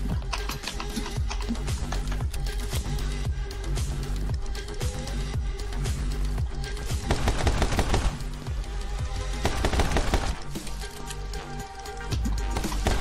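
Dense, continuous gunfire from the video game My Friend Pedro, rapid shots and impacts layered over loud driving game music throughout, with no speech.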